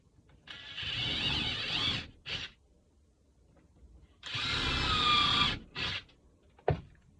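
A power drill drives screws into a wooden bird nesting box in two long whirring bursts, each followed by short blips of the trigger, with a sharp click near the end and quiet gaps between.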